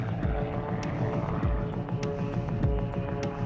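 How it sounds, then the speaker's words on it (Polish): A World War I fighter plane's engine drones steadily and loudly through a spin, a dense rumbling roar with a pulsing propeller beat and no voices over it. "Samolot wpada w korkociąg."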